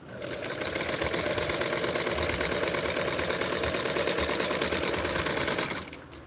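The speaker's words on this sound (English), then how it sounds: "I'm going to put the serger right here." Serger sewing machine stitching fabric for a doll dress, a fast, even mechanical whirring rattle running continuously at close range before stopping abruptly near the end.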